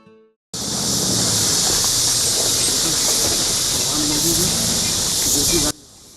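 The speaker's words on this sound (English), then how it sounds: "These are the sounds of crickets" A dense, unbroken chorus of crickets at Jim Corbett in India forms a loud, steady high-pitched drone that holds for several seconds, then cuts off abruptly.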